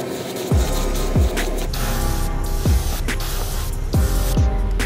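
Short bursts of airbrush hissing repeat every second or so, close by, each starting with a sharp puff over a constant background hiss, as green paint is sprayed onto a crankbait fishing lure.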